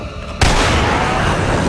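A gunshot blast from Resident Evil 4 gameplay hits sharply and loudly, then leaves a dense, sustained boom with no talk over it.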